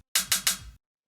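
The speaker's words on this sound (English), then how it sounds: "Basically, I just took this hi-hat sample." Hi-hat drum sample for raw, textured techno, played as three quick bright metallic hits close together with a heavier low thump under the last, dry and alone.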